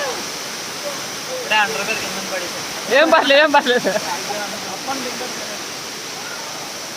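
Sariya waterfall rushes in a constant background roar while several people talk over it, voices rising briefly in the middle before the steady water noise carries on alone.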